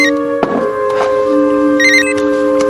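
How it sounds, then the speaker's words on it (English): An apartment telephone rings with a steady electronic trill in a crime drama scene, loud and continuous for a few seconds with no voices. "When he returns to his apartment, he receives a phone call."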